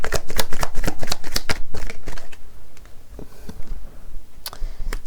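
Tarot cards are handled and laid out on a table in a quick run of crisp slaps and flicks, which thin out to a few scattered snaps.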